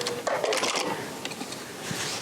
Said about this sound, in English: So as I start sewing, there I go.